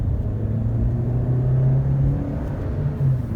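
A Hyundai Elantra accelerates from about 30 km/h during a performance test, its engine giving a steady rising drone and low rumble from inside the cabin, continuous for a few seconds with no talk.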